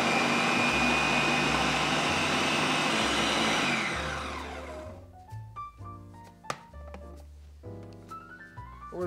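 A blender or food processor whirs loudly and steadily while blending hummus with olive oil, then winds down around four seconds in, leaving clicks and taps under a quieter hum.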